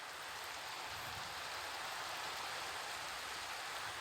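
Minecraft rain: a soft, even hiss of falling rain on surfaces, steady and fairly quiet throughout with no voices.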